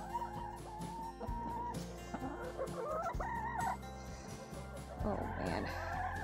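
Several chickens in a coop during a deep Canadian winter cluck and squawk close by, with bursts of agitated calls over a low steady hum.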